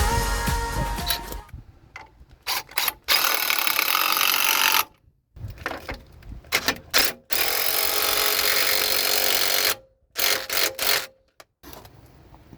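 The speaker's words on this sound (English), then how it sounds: "So unfortunately I've had to drill the mount on here." A power drill whines in repeated loud bursts, cutting off into brief silences between runs as it bores into a metal engine mount on a Mk2 Golf rally car.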